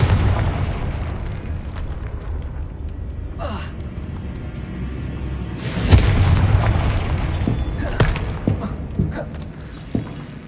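A Confringo spell explosion in the video game Hogwarts Legacy, a deep booming burst that rises sharply and rumbles over continuous game ambience, with a few smaller pops and hits following.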